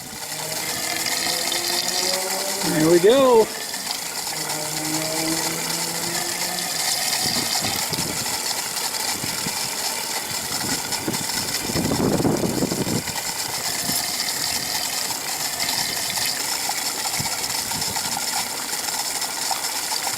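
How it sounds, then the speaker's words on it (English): An electric water pump runs steadily with a flow meter as a fresh water tank fills, a continuous mechanical hum with running water throughout, preceded by a brief whine and clicks; a voice speaks briefly near the start. "I'll just fill my fresh water tank and show you how it works."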